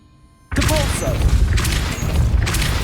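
After a short near-silence, a sudden forceful whoosh-boom from the Depulso spell cast in Hogwarts Legacy, then a sustained loud rushing blast with further pulses, while a voice calls out over it.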